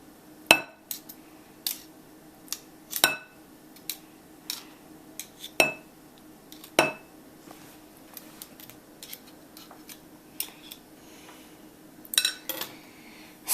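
A knife scraping and clinking against a bowl while guacamole is scooped out, with a series of sharp metallic taps and scrapes at irregular intervals, close and fairly crisp.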